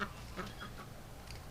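A few soft, distant quacks from ducks, spaced irregularly over a quiet background.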